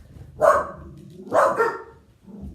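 Dogs bark twice, sharp and fairly close, the two barks about a second apart, followed by a faint low rumble.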